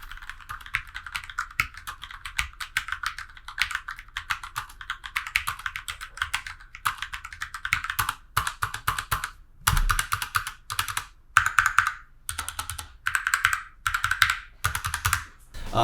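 Rapid, loud typing on a Glorious GMMK modular mechanical gaming keyboard, clacky keystrokes in bursts, pausing briefly between flurries, close up and with no voices.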